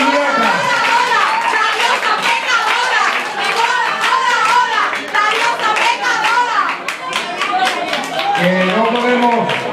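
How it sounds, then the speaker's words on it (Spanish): Audience applause at a pageant-style event honoring candidates: a sustained burst of clapping lasting several seconds, with voices and children's chatter mixed throughout. "Un aplauso fuerte para ella y también"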